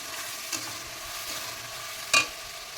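Ginger, cumin and poppy seed paste frying in oil in a pan, a low steady sizzle with an occasional soft spoon scrape and one sharper knock near the end, no talk.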